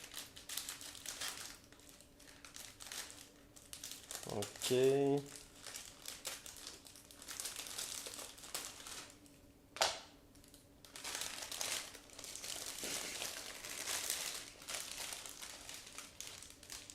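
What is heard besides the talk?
cutting sealed plastic bag with scissors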